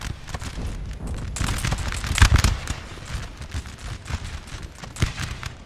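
An infantry left wing fires a musket volley in Napoleon Total War, heard as a dense crackle of overlapping shots building to a louder burst, then scattered individual reports, moderately distant and without talk.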